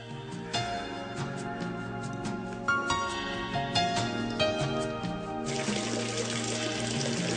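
Water rushes through a two-metre-wide underground aqueduct channel in a stone tunnel, a steady, loud, continuous flow that thickens toward the end.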